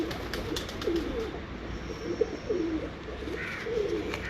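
Breeder pigeons coo in a series of soft, low, rolling calls, several throaty phrases repeated close by over a quiet background.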